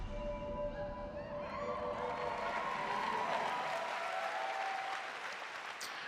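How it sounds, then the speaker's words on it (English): Applause from a large crowd at a video game press conference, dense steady clapping with some cheering that fills the whole stretch and eases off slightly toward the end. "I never get why people clap before anything's actually announced."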